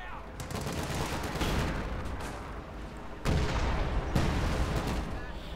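Gunfire in the World War II strategy game Company of Heroes 2, dense overlapping shots and rattling bursts amid a loud battle din, with heavier blasts later on.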